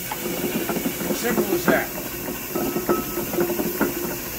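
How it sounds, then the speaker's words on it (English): A Reid steam windlass engine runs with a crankshaft driving the windlass, giving a steady rhythmic chuffing and hissing beat with repeated exhaust pulses, while someone speaks briefly over it. "driving a crankshaft, driving the windlass, and that's all there is to it"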